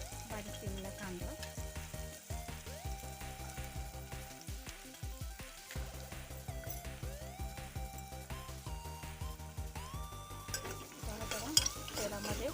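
Garlic and finely chopped onion sauté in oil with a steady close sizzle, while a spoon scrapes and clinks against the pan in repeated stirring strokes throughout.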